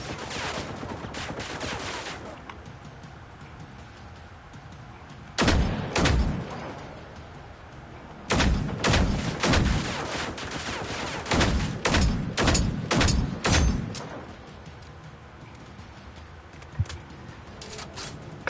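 Repeated gunfire in a video game as a magazine is emptied at a Reaper mech, several bursts of close, loud shots separated by pauses, with faint background ambience between volleys and no talk.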